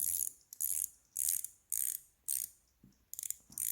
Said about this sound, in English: So the bezel action is quite nice.